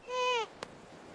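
A single short meow from a cat among the street animals of Istanbul, clear and fairly close, with a faint tap just after it in otherwise quiet surroundings.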